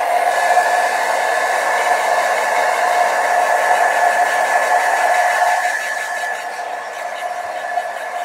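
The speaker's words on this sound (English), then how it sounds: "So I'll use my blow dryer just so I can hasten the drying time." A hair dryer blows steadily to speed up drying of wet watercolor paint on paper, a loud continuous whirring hiss that eases slightly softer near the end, with no talking.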